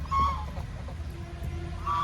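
Ducks kept in a duck house at a scenic pond site in Barisal, giving a few short nasal honks and quacks at the start and end over a low steady outdoor rumble.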